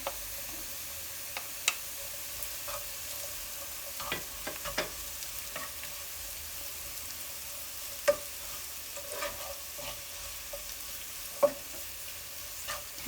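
Garlic fries in a pan for homemade noodles, giving a quiet, steady sizzle close by, broken by occasional sharp ticks and scrapes of stirring.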